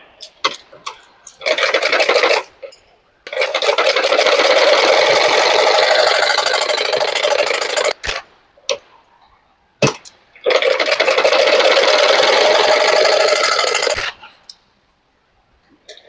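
Sewing machine running as it stitches blouse fabric in long continuous whirring bursts, each several seconds long, stopping between runs with short clicks and pauses, close and loud.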